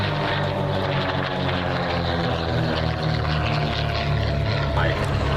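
A propeller aircraft drones loud and steady overhead at the Duxford Air Festival, its engine hum continuous and close, with people talking faintly beneath it.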